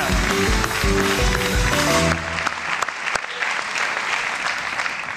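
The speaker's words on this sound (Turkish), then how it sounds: "Alkışlar buraya." Studio audience on a Turkish TV game show breaks into loud, dense applause over a musical sting, then keeps clapping more lightly and steadily to the end.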